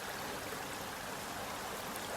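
A river swollen and colored after thunderstorms rushes steadily in a constant broadband wash, faint and continuous with no other sounds.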